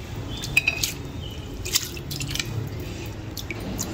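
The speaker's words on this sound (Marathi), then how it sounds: "ह्याच्यातलं आपण पाणी काढून घेऊ." Soaking water being poured off rice on its second day of soaking, a light trickling and dripping with a few sharp splashes and clinks, close and fairly quiet, no talk.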